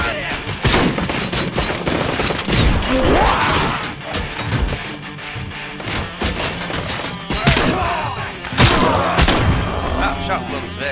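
Powerful shotgun blasts in the Robocop Rogue City video game, several loud booming shots spread across a busy firefight with other impacts and crashes in the mix.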